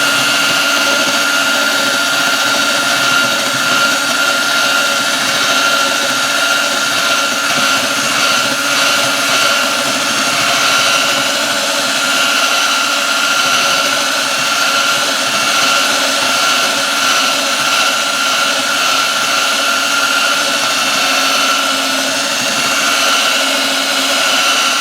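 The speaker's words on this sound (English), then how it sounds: "So let's go ahead and drill this through." A Forstner bit drills through wood during a repair of an RV dinette, giving a loud, steady whine that holds without a break from start to finish, with no talk over it.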